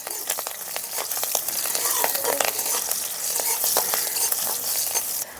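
Green chilies and whole cumin frying in oil in a wok, a bright steady sizzle broken by scattered sharp crackles and pops of spitting oil.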